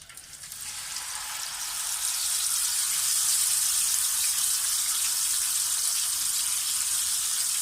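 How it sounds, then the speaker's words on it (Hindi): Fish frying in hot oil in a pan gives a steady, loud hissing sizzle that swells over the first two seconds and then holds evenly, with no talking. "अब हम इसमें फ़िश को फ्राई करने लगे हैं।"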